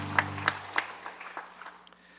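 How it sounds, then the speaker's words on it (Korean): Church congregation applauding at a Sunday evening service, a few distinct claps that quickly thin out and fade, quiet and brief. "우리 박수 한번 하겠습니다"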